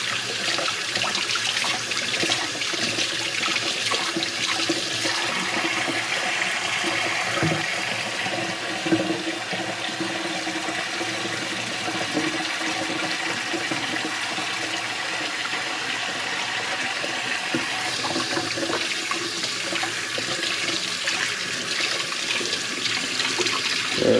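Tap water runs steadily into a sink for hand washing, a continuous hiss and splash that holds an even level throughout, with no talk.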